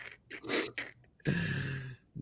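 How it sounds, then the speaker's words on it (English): A person sneezes, with a sharp burst followed by a drawn-out nasal exhale, close and fairly loud, with no talking alongside. "I'm sneezing."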